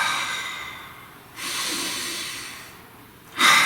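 Slow, deep breaths drawn close to the microphone, two long airy inhale-and-exhale swells, the second ending in a louder, sharper rush of air.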